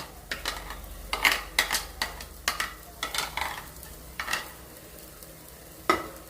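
Mango pulp being stirred into a mango chutney in a pan, a series of close, evenly spaced scraping and clacking strokes of a spoon over a faint, low simmering sizzle.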